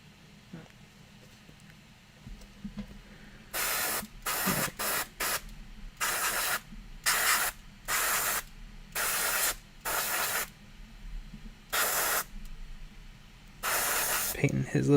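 An airbrush spraying paint onto a miniature Hanzaki salamander figure, in about a dozen short hissing bursts of a second or so each, separated by quiet gaps over faint background noise.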